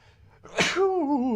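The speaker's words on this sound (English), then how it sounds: "Oh, I need to sneeze." A man sneezes once, loud and close, a sharp burst followed by a drawn-out voiced tail as he recovers, in an indoor setting where he is talking at length.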